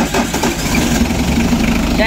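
A car engine starts and settles into a loud, steady idle right after a new alternator is installed, close by, with someone talking over it.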